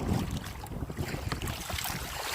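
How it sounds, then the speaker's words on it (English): Wind buffets the microphone on open water during a kayak trip, a loud, gusty rumble with faint splashing from waves and the paddle, and no voices. "It's just it's windy."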